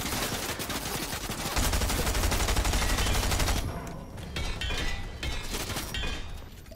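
Sniper rifle gunfire in a video game, a sharp burst of shots followed by crackling and shattering debris, loud and close, with no talking.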